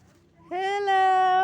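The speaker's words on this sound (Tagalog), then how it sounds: "Very friendly itong kambing." A goat bleats in one long, wavering call, close and loud, rising partway through after a brief quieter start.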